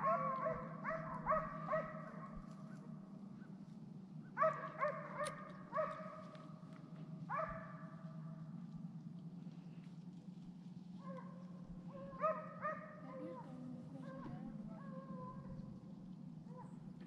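Hunting dogs chasing deer in rainy woods bark and bay in bursts from a moderate distance, in clusters of yips and howls separated by short pauses over a steady hiss of rain or wind.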